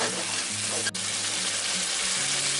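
Meat and tomato paste sizzle and fry steadily in a hot pan, a continuous crackling hiss with a brief scrape of stirring partway through.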